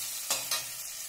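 Tomato with ginger garlic paste sizzling in a pan, a continuous hiss broken by two quick scraping stirs close up.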